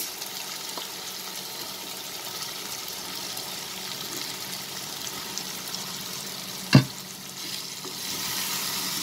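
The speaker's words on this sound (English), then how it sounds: "This is the time when I will add the soya chunks." Soya chunks go into a pan of frying onion-tomato masala and are stirred, giving a gentle continuous sizzle with soft scraping, one sharp knock of a spoon or pan near the end, and the frying growing slightly louder afterward.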